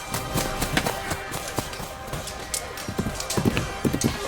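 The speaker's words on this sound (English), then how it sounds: "The English noble hustled by on his horse as Aaron left the tent." Horse hooves clip-clop steadily as the horse hurries past, set against a dense, noisy ambient backdrop of a medieval camp.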